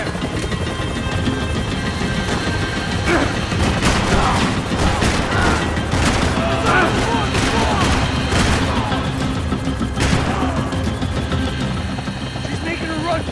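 Dense in-game gunfire and explosions in Max Payne 3 during a helicopter chase, a continuous loud barrage of shots over a droning rotor and engine, with shouting voices under the battle.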